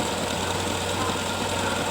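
A four-cylinder car engine idles steadily at about 800 RPM during a tune-up, a continuous low rumbling hum with a faint knocking texture, close and unbroken for the whole stretch.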